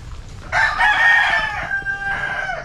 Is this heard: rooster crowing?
yes